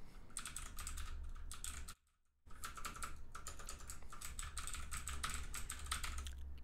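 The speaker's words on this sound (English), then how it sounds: "So the mechanical keyboard test." Rapid clatter of keys on a mechanical computer keyboard, steady and close, with a brief pause near the two-second mark before the typing resumes.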